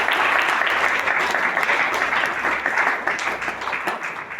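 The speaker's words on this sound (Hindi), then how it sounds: "जितेंद्र यादव जी के लिए एक जोरदार ताली" Loud, sustained applause for Jitendra Yadav fills a DXN meeting hall, many hands clapping in a thick, even roar that carries through the whole stretch without a break.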